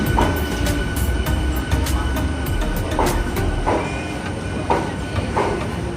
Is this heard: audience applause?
no